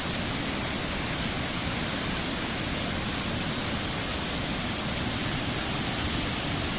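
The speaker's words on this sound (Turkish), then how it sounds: "Evet, Maden Deresi Şelalesi denen yer burası." Maden Deresi waterfall roars as a dense, unbroken wash of falling water, steady and loud throughout with no voices.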